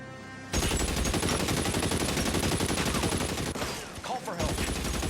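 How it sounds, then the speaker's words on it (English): Sustained rapid automatic fire from a Tommy gun in the 1930s crime game LA Noire, a dense, loud burst lasting several seconds with a brief dip before the firing resumes. "A Tommy gun."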